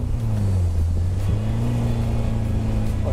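A Honda F20C engine in a Honda car revs hard under acceleration, a loud, close, continuous rumbling drone whose pitch climbs and holds steady, with no voices over it.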